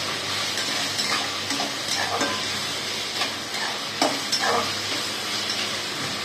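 Vegetables stir-fry over a full gas flame, a steady close sizzle and hiss broken by repeated scrapes and knocks of a spatula against the pan.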